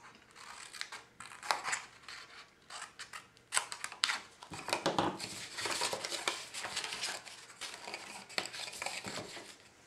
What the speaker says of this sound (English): you're going to take your scissors and you're going to cut along the scored line there, right to the center